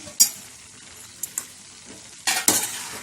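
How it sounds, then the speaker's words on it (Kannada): Fried mushrooms tipped into a pan of sizzling Manchurian sauce and stirred, a soft background sizzle punctuated by a few sharp utensil clinks and scrapes, the loudest two near the end, no talking. "ಈಗ ಕರ್ಕೊಂಡಿರೋಂಥ ಮಶ್ರೂಮ್ನೆಲ್ಲ ಹಾಕೊಳ್ಳೋಣ."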